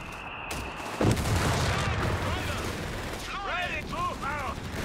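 Gunfire in Company of Heroes 3, a loud report followed by sustained battlefield shooting and rumble, with voices talking over the combat.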